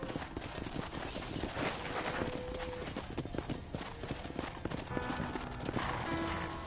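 Horse hooves clip-clop steadily in Red Dead Redemption on a ranch, a moderately loud, continuous gait of sharp irregular knocks, with ambient game sound and brief voice underneath.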